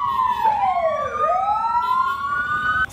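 A siren sounding close and loud at midday at Terre d'Ifé, its pitch sweeping down and then rising again in a long continuous wail with no voices over it.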